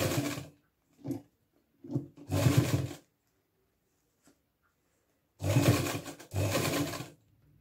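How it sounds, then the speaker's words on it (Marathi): A sewing machine stitches a kurti neckline in short, loud runs separated by pauses, two or three quick bursts followed by longer stretches of steady stitching, with no talking. "अर्ध्या भागात आपण अशी टिप मारून घेतली आहे, आता या बाजूसही त्याचप्रमाणे टिप मारून घेऊया"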